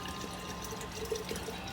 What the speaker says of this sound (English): fill in this dirty jar.